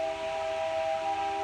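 A train whistle sounds nearby as one sustained, steady tone with a faint hiss beneath it, held for the whole stretch with no speech over it.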